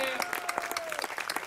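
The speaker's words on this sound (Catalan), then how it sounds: "Un aplaudiment per l'Imaginada, va" Audience applause at an outdoor cabaret stage in the Camp de Mart gardens, a dense patter of many hands with a voice briefly audible over it.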